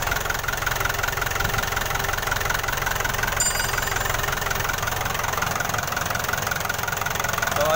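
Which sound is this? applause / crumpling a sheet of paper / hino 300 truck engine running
hino 300 truck engine running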